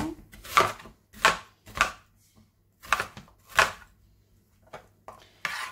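An onion being cut with a knife for a Moroccan beef and vegetable soup, about seven crisp separate chops on a board at an uneven pace, close and clear without talking.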